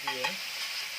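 Onion and tomato sizzle in a hot frying pan as a spoon stirs them briefly, with a scrape at the start over a constant, close frying hiss.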